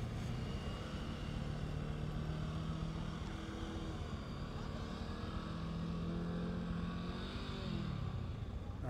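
A motorcycle engine idles and putters along at low speed during slow-speed riding practice, a faint, steady low drone with slight rises and dips in pitch and no voices.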